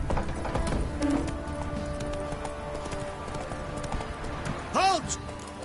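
Roach the horse gallops in The Witcher 3 with a steady, rhythmic clip-clop of hooves and a short whinny near the end, while characters talk over it.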